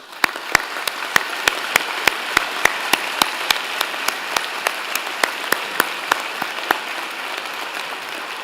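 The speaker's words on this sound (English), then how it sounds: "join me and the platform party in thanking them with a very vigorous round of applause." Vigorous applause at a spring college convocation for science and commerce graduates, one nearby pair of hands clapping sharply in a steady, even beat over a dense wash of crowd clapping for about eight seconds.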